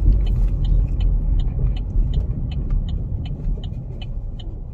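The brakes of a 2014 Chevy Equinox creak while it is driven, a faint, regular run of small ticking clicks repeating several times a second over a steady low road and engine rumble.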